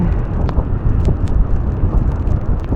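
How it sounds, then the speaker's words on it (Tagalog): Strong seaside wind at a beach buffeting close up, a rough low rumble with gusty swells and a few faint higher tones, no talking. "Lakas ng hangin."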